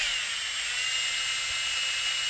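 An improvised chopstick drill whirs as it bores into foam core board, a steady thin high whine held at constant pitch with faint background noise beneath.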